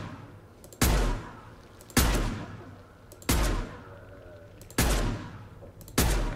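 Pistol fire from the video game Mass Effect 2: five sharp, loud single shots, each with a booming decay, spaced roughly a second apart, with no talk over them.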